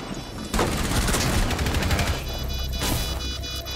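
Rapid gunfire in the tactical shooter game Rainbow Six Siege, loud and continuous with a sharp onset, sustained bursts dense through the clip.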